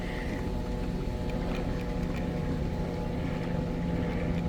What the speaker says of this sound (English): I'm sure you can hear a lot of the helicopters and planes going on overhead